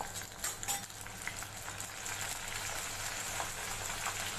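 Corn kernels dropped a little at a time into hot oil for masala corn give a steady, close sizzling hiss with small crackles, growing fuller and denser after the first couple of seconds, with no voices.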